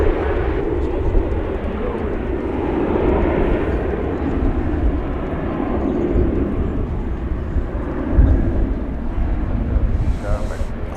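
A Boeing 777 airliner on Flight 81 from London Heathrow rumbles past DFW airport as a loud, steady jet-engine roar with gusts of wind noise, while a person talks over it.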